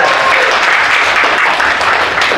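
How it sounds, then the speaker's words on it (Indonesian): Students in an Indonesian classroom give a round of applause, a dense and loud burst of clapping from many hands that stays even and close throughout. "Oke, tepuk tangan ya untuk Kalisa."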